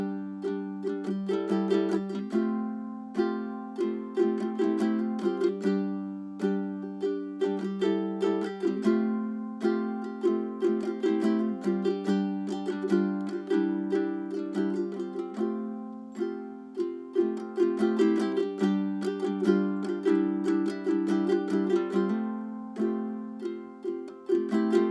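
Ukulele playing the intro of a song, a steady picked chord pattern with a held middle finger and ringing notes, close and clear with no talking throughout.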